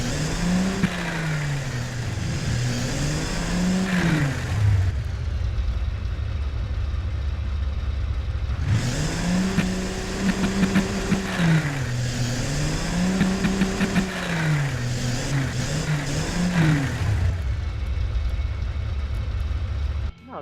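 A car engine in the Automation game revs up and down through repeated cycles, a loud droning whine that rises and falls in pitch. There are brief lulls between rev bursts and no speech.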